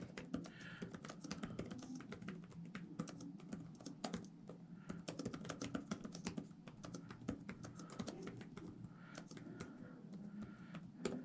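Fast typing on a computer keyboard during an online typing race, a dense, rapid and steady patter of key clicks that stays fairly quiet and close, with no voices.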